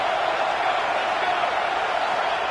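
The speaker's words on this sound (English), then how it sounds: "The crowd is roaring, trying to help this defense on 4th down." A stadium crowd at a football game roars steadily on a 4th-down defensive stand, a dense continuous wash of noise at constant loudness with no break.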